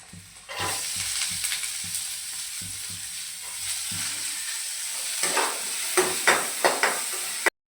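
Garlic and onion fry in ghee in a pan, a steady close sizzle broken by scraping stirs and sharper spatula clinks toward the end, with no one talking.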